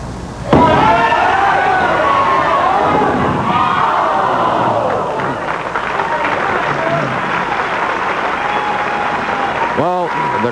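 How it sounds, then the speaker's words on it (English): A crowd at the 1986 Greater Los Angeles Open bowling tournament cheers and claps, a loud burst that swells then slowly thins, with a commentator's voice partly over it and a sharp knock near the end. "I can hear them all cheering."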